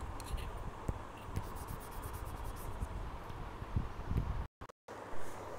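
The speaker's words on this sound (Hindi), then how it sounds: "स्टार्ट करने से पहले हम फॉर्मूला लिखेंगे इसमें" A chemical formula being written by hand, a steady close scratching of pen on paper with faint strokes and taps, continuous and low for several seconds, with a brief cut-out near the end.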